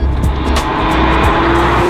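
A Porsche 987 Spyder engine roars loudly and steadily with a raw, throaty sports exhaust note, close up, with a sharp rising tone near the end.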